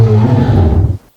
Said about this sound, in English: Now let's check out the sound effects, starting with the roar.